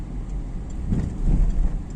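A car in motion during a beginner driving lesson, engine rumble rising as the driver presses the accelerator, low and steady with a swell in the second half, heard from inside the cabin with no talk.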